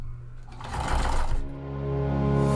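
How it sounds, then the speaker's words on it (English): A sewing machine stitches a tote bag seam with a steady motor hum, speeding up into a louder whirring run midway, then settling into a constant drone. "make sure you backstitch at the beginning and the end of each side."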